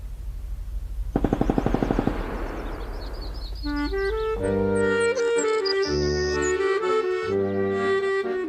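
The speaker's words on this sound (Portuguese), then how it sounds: "Segundos depois, os disparos." Gunfire from a firing squad execution: a rapid rattling volley of shots near the start, followed by a loud sustained tonal musical passage.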